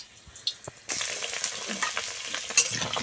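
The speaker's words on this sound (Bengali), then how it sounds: "তো আমি প্রথমে আলুগুলো ভেজে নেব।" Potatoes fry in a hot pan, a quiet start giving way to a steady loud sizzle with a few stirring scrapes and pops.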